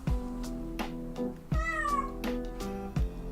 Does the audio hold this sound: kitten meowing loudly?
yes